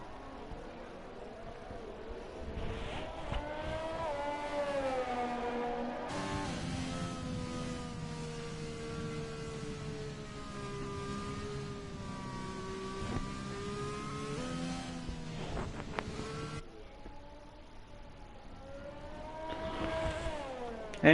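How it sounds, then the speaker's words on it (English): A pack of race cars in a racing video game streams past with sustained, whining engines that rise and fall in pitch, swell loudly, then briefly drop away before more cars arrive. "There's a big train of cars coming out."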